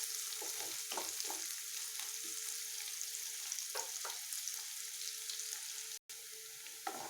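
Chopped onions sizzle and crackle steadily in a hot pan, with occasional scrapes and stirs from a utensil, one brief cut near the end.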